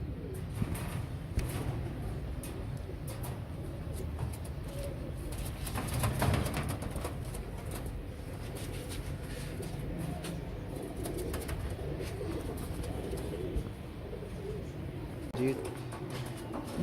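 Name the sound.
Royal Teddy pigeons cooing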